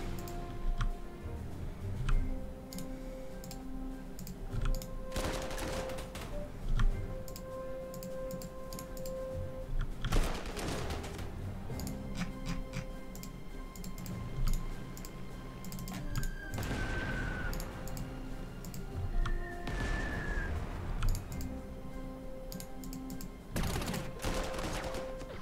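Artillery fire in the World War II strategy game Panzer Corps 2 sounds as a few sharp, broadband booms scattered through a quiet backdrop of soft clicks and brief interface tones, with no one talking.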